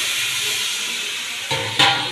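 Tomatoes tipped into a hot pan for a Telugu-style tomato peanut chutney, giving a steady close hiss of sizzling that swells in two brief bursts near the end.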